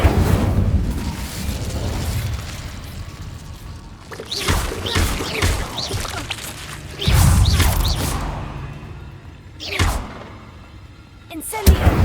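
Incendio fire spells are cast in Hogwarts Legacy, producing several loud whooshing bursts and booming impacts spaced a few seconds apart amid game combat sounds.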